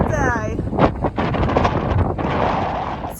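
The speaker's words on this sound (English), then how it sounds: "It's a little windy out here on Sun Point" Gusty wind buffets the microphone with a low rumble while a person speaks over it outdoors at Sun Point on the Pacific Crest Trail.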